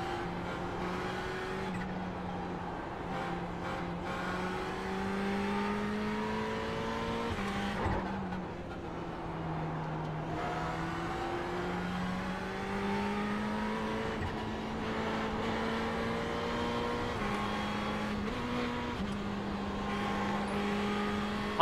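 A Ferrari race car in iRacing laps Spa on cold tyres, its engine wailing steadily and rising and falling through repeated gear shifts, with a short dip near the middle and no talk.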